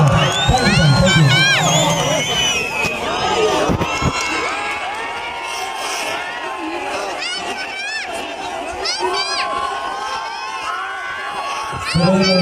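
A large crowd cheers and shouts, children's voices among them, welcoming Nepali film actor Paul Shah at a homecoming event in Dang; loud, dense and continuous, with whoops rising throughout.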